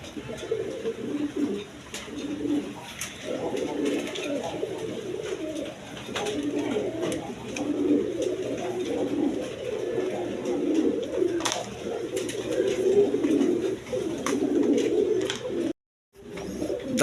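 A pair of large, high-quality pigeons coos in low, repeated, rolling phrases close by, with a constant hum in the background and a brief dropout near the end.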